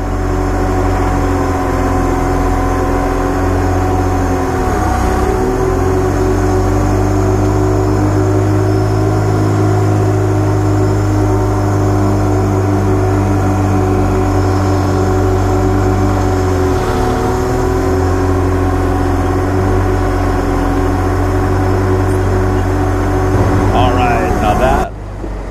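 A Zamboni ice resurfacer drones steadily on its final pass over the rink, a loud, constant low engine hum with a slight dip in pitch twice as it turns, and a brief clatter at the end.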